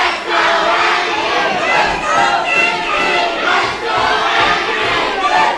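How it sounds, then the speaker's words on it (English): A wrestling crowd at the EWF Arena in Covina, California, chanting back and forth in dueling chants, loud and rhythmic, a dense roar of many voices that swells and dips. "A dueling chants here from our crowd here at our EWF Arena"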